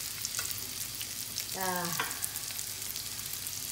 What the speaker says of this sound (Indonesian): artinya kita kecilin sedikit karena udah meletup-meletup.